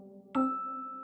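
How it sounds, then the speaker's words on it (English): A single doorbell chime strikes once, sharp and close, then rings on with a steady sustained tone, over a faint background hum of music. "Pull the bell."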